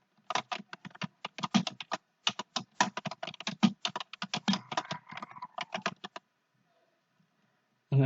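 Fingers type text on a computer keyboard in quick irregular bursts of close, crisp key clicks, pausing briefly between words, then stopping before a single faint click at the end.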